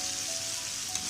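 Onions added to hot spiced oil in a pan while cooking bakra chanpa, giving a steady soft sizzle and crackle that holds throughout this short moment.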